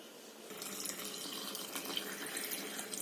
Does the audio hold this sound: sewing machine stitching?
no